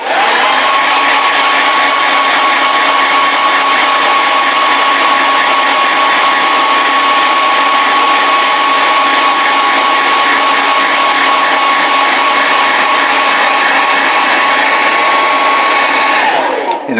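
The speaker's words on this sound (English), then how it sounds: "Okay, I'm going to hit that with a hair dryer." A hair dryer blows continuously on a painted vinyl model kit, a loud, steady whirring roar with a constant whine that holds for about sixteen seconds before switching off.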